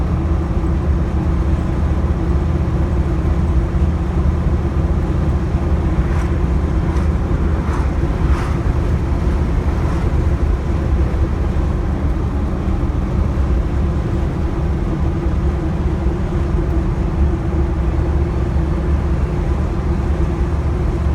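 A 1976 Ford Bronco cruises down the road, its cabin filled with a steady, loud low rumble of engine, tires and wind that barely changes throughout.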